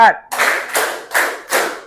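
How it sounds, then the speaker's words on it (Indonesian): Standing classroom students clap in unison on a teacher's count, four sharp group claps evenly spaced about half a second apart, close and loud, after a brief voice at the start. "Tepuk 1. Tepuk 2. Tepuk 3. Tepuk 4."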